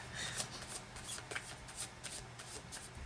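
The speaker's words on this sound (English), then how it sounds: "I'm going to clarify the cards now. So I'm using the Marchetti Tarot Royale deck." A Marchetti Tarot Royale card deck is shuffled by hand, producing quiet, rapid riffling flutters and soft card slaps in a close, low-level burst with no speech.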